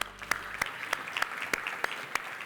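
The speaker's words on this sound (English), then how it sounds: "Let's give her a round of applause." A live audience claps for a guest at a health care conversation event, with dense steady applause punctuated by sharp individual claps, sustained throughout without voices.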